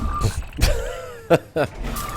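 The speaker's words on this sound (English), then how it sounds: "That's the sound of me hitting myself in the face with a microphone" Two short, sharp knocks from a microphone striking a person's face, each a brief thump standing out above quiet background and some vocal murmuring.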